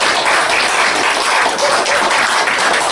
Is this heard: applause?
yes